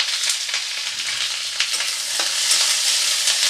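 Two large onions and six or seven garlic cloves frying in hot oil in a pan while being stirred: a continuous bright sizzle with occasional scraping knocks from the spoon, close and steady.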